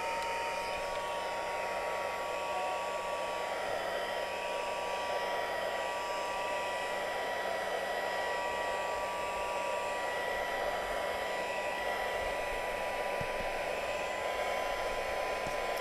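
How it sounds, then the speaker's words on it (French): A Stampin' Up heat gun on power setting 1 blows steadily while drying paper, a constant close, loud whooshing hiss with an electric whine that holds even and unbroken throughout, with no talking. "utiliser le pistolet chauffant de Stampin' Up et vous utilisez la puissance 1 pour aller le sécher."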